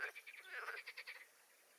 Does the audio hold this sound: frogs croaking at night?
yes